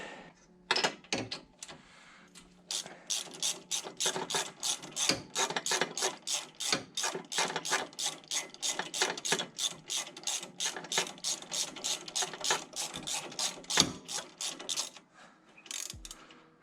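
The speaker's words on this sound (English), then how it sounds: "So now I want to grab a spark plug socket." A ratchet turning a 5/8 spark plug socket on a Cub Cadet XT1 LT50 lawn tractor, a long, steady run of close, crisp clicking strokes with a few brief pauses and a clunk near the end.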